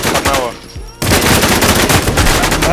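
Rapid automatic gunfire in the survival shooter Infestation, loud and close, with bursts of shots continuing almost without pause after a brief lull near the start.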